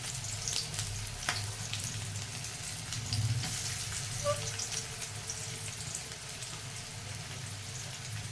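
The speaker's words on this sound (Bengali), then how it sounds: "তেলটা গরম হয়ে গেছে। দেখো, পেঁয়াজটা দিয়ে দিয়েছি।" Onion frying in hot oil for a chicken ghugni, a constant bright sizzle with faint crackles and an occasional stir, close and steady throughout with no talking.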